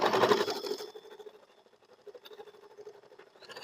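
A sewing machine runs in a short loud burst, then keeps up a softer, steady rhythmic whirring as it stitches layered elastic.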